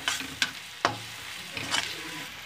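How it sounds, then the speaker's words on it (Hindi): Turmeric powder cooks in a pan while a spoon stirs it, giving a low sizzle broken by three or four sharp scraping knocks, fairly quiet and without speech. "इसके लिए 2 मिनट ऐसे ही हल्दी को अच्छे से पका लूँगी"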